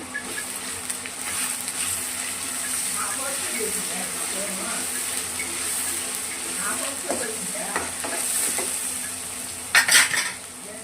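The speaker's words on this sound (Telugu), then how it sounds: "అల్లం ఎల్లిగడ్డ ఫ్రై అవుతుంది కదా" Sizzling in a pan as ginger and garlic fry with turmeric, steady frying crackle, a spoon stirring and scraping metal now and then, and a sharp clatter near the end.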